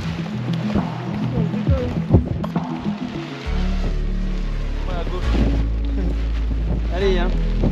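Strong wind at a paragliding launch buffets the microphone with a steady low roar throughout, while voices talk and call out over it.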